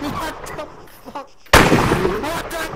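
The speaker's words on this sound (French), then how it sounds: "Dès que je tire une balle en l'air, c'est le signal." One gunshot is fired into the air: a sudden loud, sharp blast with a ringing, echoing tail that cuts in after a short stretch of talking.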